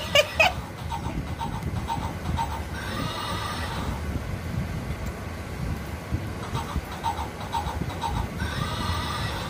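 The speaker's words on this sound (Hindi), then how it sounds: "घोड़ा चला रही मेरी बेटी।" Toy horse neighing while a child rides it, a brief whinny at the start followed by steady mechanical clip-clop and rattling motion, with another faint neigh near the end.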